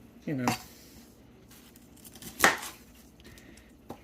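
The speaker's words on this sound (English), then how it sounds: "see if I got any like gargantuan pieces of broccoli, and I'll just cut those in half" A knife cuts through pieces of broccoli on a board, two distinct crisp chops about two seconds apart with a faint clink after the second, while a person talks between them.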